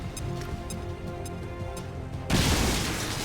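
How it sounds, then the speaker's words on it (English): Grenade explosion in the video game XCOM 2: a quiet stretch of light clicks and background sound, then a single loud, sudden boom that bursts in and rumbles on as it slowly fades. "when in doubt, lob grenades everywhere"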